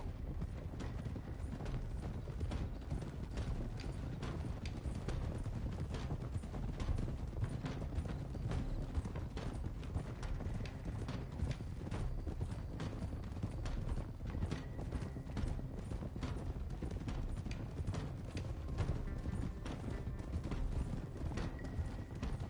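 Horses gallop in Red Dead Redemption 2, hooves clip-clopping steadily and loud throughout, layered with clanking tack and mechanical game sounds, with no speech.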